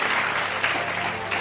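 Church congregation clapping in a steady burst of applause for a couple of seconds, fairly loud and dense, with no speech over it.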